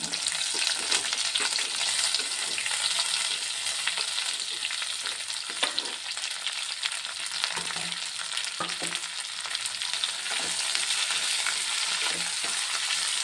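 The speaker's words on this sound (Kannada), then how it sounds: "ಈರುಳ್ಳಿ ಚೆನ್ನಾಗಿ ಫ್ರೈ ಆಗಲಿ." Onions and green chillies frying in oil make a steady, moderately loud sizzle with a broad crackling hiss, and occasional stirring scrapes and clicks break through it the whole time. No one speaks.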